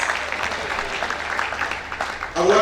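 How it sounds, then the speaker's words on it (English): An audience applauds at a business success summit, steady moderate clapping filling the space before louder, closer claps and a voice surge at the end. "Clap for yourselves, everybody."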